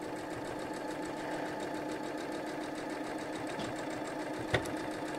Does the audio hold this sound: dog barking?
no